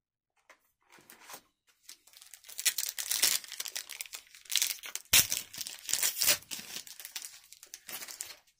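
Brothers' War Magic: The Gathering booster pack wrappers crinkle and tear open in close, loud bursts of foil crumpling, with a sharp rip partway through and no talking.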